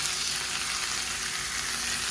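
Onions sizzle and fry steadily in a hot pan. The crackle is dense and continuous, fairly close, and no one speaks over it.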